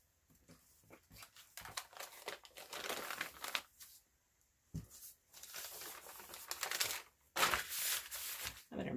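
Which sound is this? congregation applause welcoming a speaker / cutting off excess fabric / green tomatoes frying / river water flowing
cutting off excess fabric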